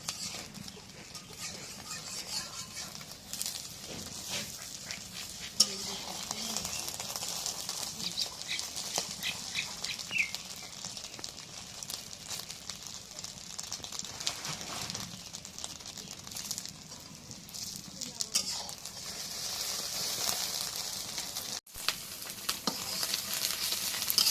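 An egg fries in a pan with a steady, soft sizzle and crackle running through the whole stretch, close by and continuous with small pops and scrapes.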